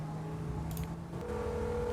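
Telephone dialing tones from a phone being called, steady tones sounding fairly loud with a brief change partway through, with no talking.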